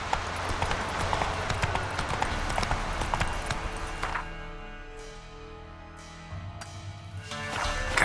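Roach the horse trotting in The Witcher 3, hooves clip-clopping in a steady rhythm over ambient game sound, then easing to a slower pace with a few distinct hoof strikes near the end.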